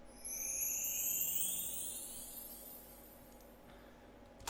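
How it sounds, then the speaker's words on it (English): Chimes pitch-shifted into a rising, shimmering sweep for an ice magic spell effect, faint and airy, climbing steadily for several seconds before fading. "And finally we have these rising chime sounds."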